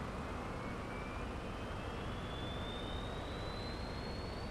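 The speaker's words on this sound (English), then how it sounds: "Hear those lovely sounds of the APU from outside the plane" A steady broadband roar from the APU of an Aerosoft CRJ 550 in Microsoft Flight Simulator 2020, heard from outside the plane, with a faint rising whine above the continuous hum.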